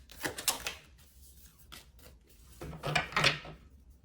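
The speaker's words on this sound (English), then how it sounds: "we're gonna get a few more shuffles" Tarot and oracle cards being shuffled, with bursts of crisp riffling and rubbing at the start and again near the end, close and fairly quiet, with softer card handling between.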